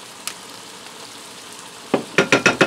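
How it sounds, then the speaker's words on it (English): A hashbrown hamburger casserole mixture seasoned with Worcestershire is stirred together, heard as quiet background for nearly two seconds before a run of about six rhythmic, close scraping strokes. "And I'm going to go ahead and stir that all together."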